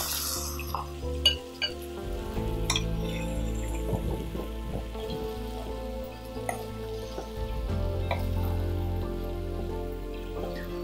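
Chopped cauliflower sizzling and frying in a hot pan, a steady crackling hiss with scattered pops and occasional stirring clatter, close and continuous.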